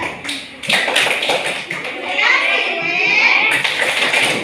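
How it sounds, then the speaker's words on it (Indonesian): Classmates clap for a student in a school classroom during a coding and artificial intelligence lesson, quick close hand claps with children's voices chattering over and around them. "Kita kasih tepuk tangan dulu untuk Hasna ya"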